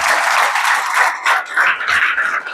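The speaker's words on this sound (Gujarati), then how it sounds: "તાળી પાડી પરમેશ્વરનો ધન્યવાદ" A church congregation claps together in praise during a Gujarati sermon. Dense, steady clapping fills the room, with slight surges and dips in intensity.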